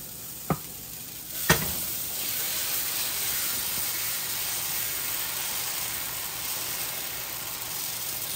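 Dosa batter hits a hot dosa pan and sizzles loudly after a couple of sharp taps, the steady hiss and crackle filling the kitchen.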